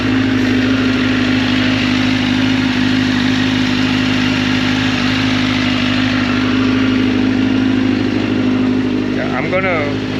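A Kawasaki ZX-10R motorcycle engine idles steadily nearby after valve clearance work, with a low, even hum that holds the whole time.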